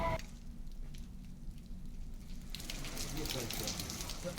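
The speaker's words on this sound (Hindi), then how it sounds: "रामनगरी में रात से लगातार बारिश हो रही है।" Steady rain falls overnight in Ayodhya during wintry weather, a continuous hiss of broadband noise that grows denser and brighter partway through, with no talk over it.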